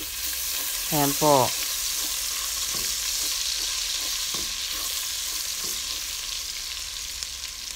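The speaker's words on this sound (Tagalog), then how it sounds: "start na po tayo magisa. Unahin po natin ilagay ang ating ginger." Ginger sautés in a pan for ginataang laing, a steady sizzle with occasional stirring scrapes. A voice speaks briefly near the start, then only the frying continues.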